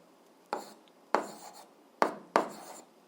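A pen scratches across paper while someone writes out algebra, four short scraping strokes spaced apart and heard close up with no talking.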